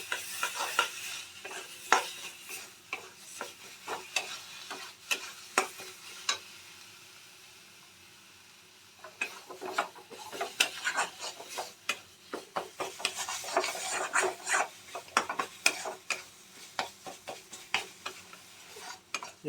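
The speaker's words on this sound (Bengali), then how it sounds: "এবার মশলাটা আমরা ভালো করে মিশিয়ে নেব।" Spices are stirred and scraped around a frying pan in quick repeated strokes, a brief pause midway, then more rasping stirring over a soft sizzle, close and moderately quiet.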